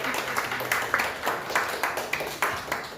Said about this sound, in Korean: 이제 한번 일어나시면 우리 박수로 환영하겠습니다